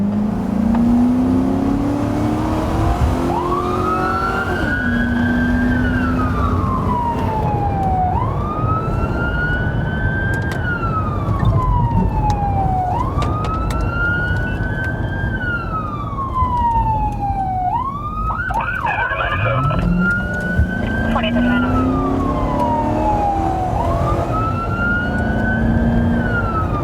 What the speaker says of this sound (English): running 1018, these lights and sirens because there is entrapment and possible injury